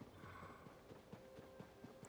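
A horse gallops in the open world of Zelda: Tears of the Kingdom, a steady rhythmic clip-clop of hooves over ambient game background, with no voices.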